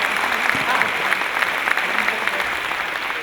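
An audience at a business conference claps steadily and warmly at the close of a talk, a dense sustained applause lasting a few seconds at close range.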